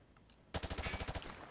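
Rapid automatic weapon fire in Modern Warfare 2, shot through light cover on a training range: a quick burst of about ten sharp, evenly spaced rounds that starts abruptly and ends after under a second.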